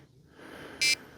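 A fishing bite alarm on a roach and perch feeder setup gives one short, piercing electronic beep against a quiet outdoor background.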